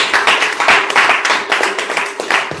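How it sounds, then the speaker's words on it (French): Applause from the audience at a joint Toastmasters club session in France, a steady burst of dense clapping from a nearby crowd lasting throughout. "Sous vos applaudissements"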